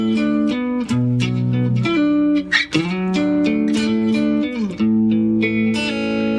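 Electric guitar plays a song's riff in a bluesy style, with sustained bent notes and slides over a steady rhythm, a clear, moderately loud tone alone without talk.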